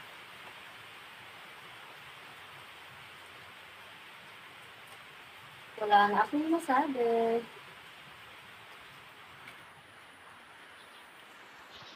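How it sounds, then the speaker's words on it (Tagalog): Steady outdoor rain falls in Sungkil, Santa Barbara, Pangasinan, making an even, continuous hiss that runs throughout, with a brief stretch of a man's speech over it midway. "Umuulan po ngayon dito po sa amin."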